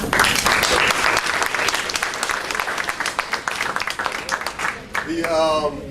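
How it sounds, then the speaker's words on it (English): Crowd applause for staff and coaches at a 2014 athletes' signing ceremony: loud, dense clapping from the start that gradually thins into scattered claps, with a voice rising over it near the end. "I would just like to give all the surrounding periphery staffs and coaches a round of applause for them"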